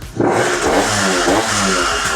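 A small scooter engine converted to pre-mix fuel with its oil pump removed revs hard and fast, its buzzing whine rising and pulsing unevenly, loud and up close, with no voices.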